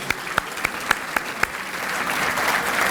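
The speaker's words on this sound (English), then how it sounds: "so give yourself a round of applause" An audience of about 500 at a city event breaks into applause, starting with a few separate claps that quickly swell into steady, dense clapping from the room.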